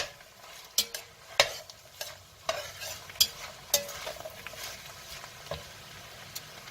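A spoon stirs vegetable beef soup with bay leaves and herbs in a pot, giving a series of sharp knocks and clinks against the pot over a faint simmering hiss, close and irregular.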